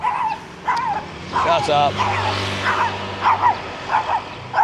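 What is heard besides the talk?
small dog barking and yipping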